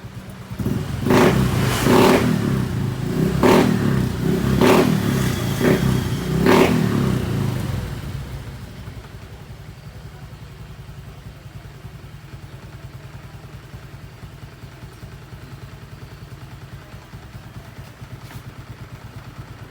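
A motorcycle, an Apido V4 with an aftermarket exhaust pipe, revs in several sharp bursts, then settles into a quieter steady idle that continues to the end.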